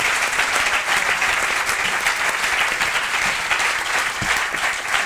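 Sustained, loud audience applause at a live comedy show on the Turra Tour 2023, thick steady clapping from a full crowd with no speech over it.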